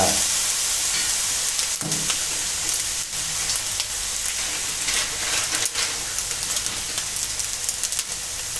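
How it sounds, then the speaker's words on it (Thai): Chinese sausage fried rice being stir-fried over high heat in a pan, a steady loud sizzle and hiss with scraping and tossing clatter throughout, no talking. "ตอนนี้ก็ ผัดส่วนผสมให้เข้ากันเลยนะครับ เร่งไฟแรงนะฮะ"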